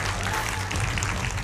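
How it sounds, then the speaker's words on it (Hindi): Studio audience applauding during a televised political debate show, a short, dense burst of clapping that stays level and fairly loud throughout. "ताली बजाइए भाई"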